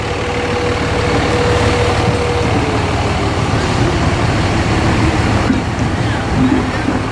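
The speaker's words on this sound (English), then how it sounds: "Oh, that's the forklift." Heavy engine rumble from a forklift working at a karting track, steady and fairly loud, mixed with truck-like idling and broad background noise, with a faint tone sliding downward early on.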